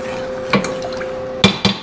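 Food being stirred in a pan, giving a few quick scraping, clinking strokes of a utensil against the cookware, close and moderately loud over a steady background hum, with no talking.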